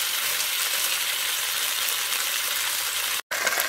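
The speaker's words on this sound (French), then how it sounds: "Mon poisson là bien en train de braiser" Tilapia fish fries in a hot pan over low heat, a steady dense sizzle close by that holds without a break apart from one brief silent gap near the end. No voice is heard.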